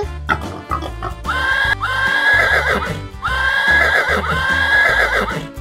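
Two loud horse whinnies in quick succession, each a high wavering neigh, set against upbeat background music.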